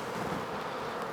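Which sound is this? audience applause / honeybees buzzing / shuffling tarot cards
honeybees buzzing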